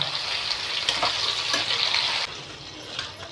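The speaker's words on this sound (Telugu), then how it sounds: "మాడిపోకుండా నిదానంగా ఇట్లా వేయించుకోండి." Garlic and chili powder paste frying slowly in a pan for snake gourd curry, a steady bright sizzle with light stirring scrapes, moderately loud and close, no voices.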